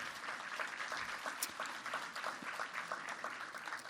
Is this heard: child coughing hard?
no